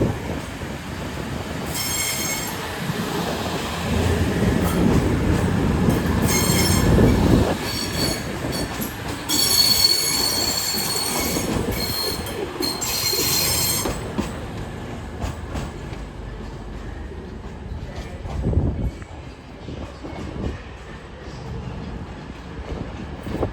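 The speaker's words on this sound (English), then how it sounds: "cross country service, 22007 off to Birmingham New Street." A CrossCountry train, unit 22007, departs Newcastle station for Birmingham New Street, its wheels squealing with high shrill tones over a loud rumbling roll that builds and fades across the platform.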